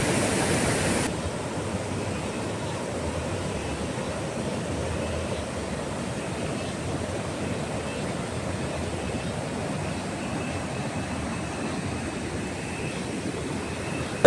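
A river runs just below a house in Kerala during flood concerns, giving a steady, even rush of flowing water that continues unbroken throughout.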